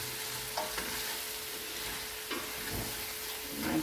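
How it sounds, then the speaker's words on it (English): A spoon stirs tomato bredie thick with tomato paste in a hot pot, steady sizzling and frying under a few soft scraping stirs, close up with no talking. "I'll give it a nice big stir."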